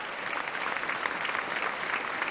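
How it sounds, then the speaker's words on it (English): Audience applause at a Philadelphia mayoral inaugural address at The Met, a steady, full round of clapping from a large crowd filling the whole stretch without pause. "Give him a huge round of applause."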